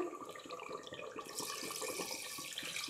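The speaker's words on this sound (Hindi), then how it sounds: "तो अब इसके अंदर मैं दो कप पानी ऐड करती हूँ" Two cups of water are poured into a clay pot of browned mutton for mutton kunna, a steady splashing, gurgling stream that runs without a break for about three seconds, close and fairly quiet.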